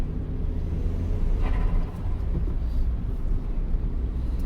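Renault Twingo engine pulling in third gear at around 2,500 rpm with a suspected boost leak, giving a steady low drone and rumble with a faint whooshing rise partway through.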